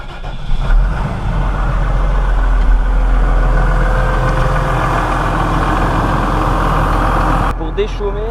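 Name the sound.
tractor engine idling while warming up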